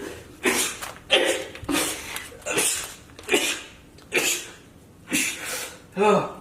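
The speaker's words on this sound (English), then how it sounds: "Oh, but it's sneeze." A man sneezes repeatedly in a rapid series, six or seven bursts spaced about a second apart, each loud and close, with short breathy gasps between them.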